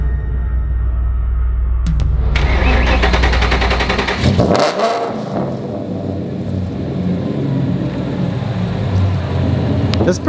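A Ford Mustang GT350R race car's engine rumbles at idle, then is revved hard, a loud rising roar that surges and settles into a steady, powerful drone close by.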